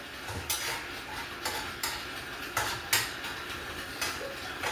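Vegetables for chicken fried rice being stirred in a pan, with several distinct scrapes and clinks of a utensil against the pan at an irregular pace over a steady low background, close by, with no speech.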